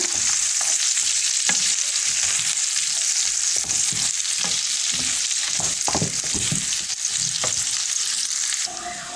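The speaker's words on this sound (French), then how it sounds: "Des oignons et du persil finement hachés. Je remue bien." Finely chopped onions and parsley sizzle loudly in a pan, a bright hissing fry for sole meunière broken by soft scraping strokes of stirring, close up, with the hiss dropping slightly at the end.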